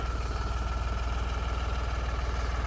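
The diesel engine of a New Holland 3630 tractor idles steadily up close, a low pulsing chug with a constant rumble throughout and no voices.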